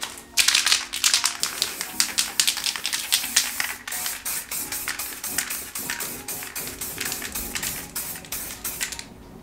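A trigger sprayer dispensing headlight restoration product onto a car headlight, giving a long run of quick, evenly spaced spritzes up close, each one a short sharp hiss with clicks from the trigger mechanism.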